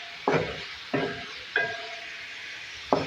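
Chopped green chillies frying with okra, onion and softening tomato in a pan, a steady sizzle with four distinct scraping stirs of a spoon, close and loud, no talking.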